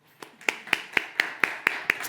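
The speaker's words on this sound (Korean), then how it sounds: "서로를 위해서 박수" Rhythmic applause of one pair of hands clapping eight times at a steady beat, close and moderately loud, from a church lecture audience asked to clap for one another; no talk over it.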